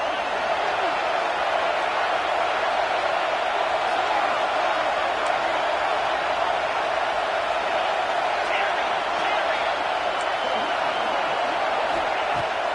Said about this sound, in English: This crowd is rising up, trying to help its defense make a stand on the 2-point try.